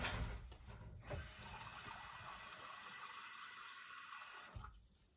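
Water running from a kitchen tap into a measuring cup, a steady close rushing hiss that holds for several seconds after a brief splashy start, then the flow is shut off.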